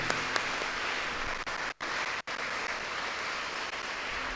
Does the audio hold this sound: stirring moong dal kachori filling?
no